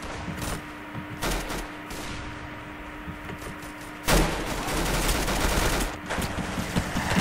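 Gunfire rattles through a video game match, a dense, continuous barrage of rapid shots with louder bursts, one heavy blast partway through, all at steady loud level with no talking.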